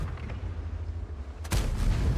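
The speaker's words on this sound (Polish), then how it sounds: "Chciałem oddać strzał na budówkę, jak Tiger strzelił." A single heavy tank cannon blast in a video game, fired by a Tiger tank, booms at about one and a half seconds, cutting through a steady low engine rumble, loud and close.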